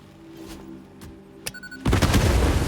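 Explosions in the video game Satisfactory: a few soft thuds and a sharp crack, then a loud rumbling blast that swells and roars on to the end.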